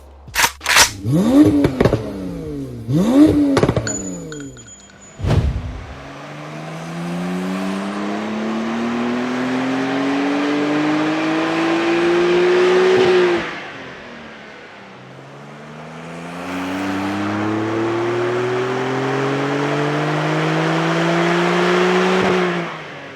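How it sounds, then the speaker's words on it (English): A Porsche 911 992 Carrera S convertible engine revs during baseline testing, opening with sharp blips and then two long climbing revs that rise and hold, loud and close, with a brief pause between. "we've done some baseline testing with Conor's 992 Carrera S convertible"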